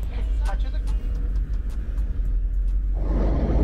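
A Buchanka off-road van pulls out of Derbent, Dagestan, its engine a steady low rumble throughout, with a brief rising surge near the end as it gets under way.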